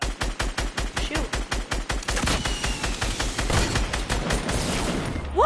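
Rapid automatic gunfire in a video game, a steady rhythmic run of shots for about two seconds, then a denser, continuous rattle of fire and effects, heard close with no talking.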